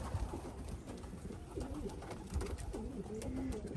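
Racing pigeon cocks cooing at the loft as birds return from a race, soft repeated coos over a steady background murmur, fairly close.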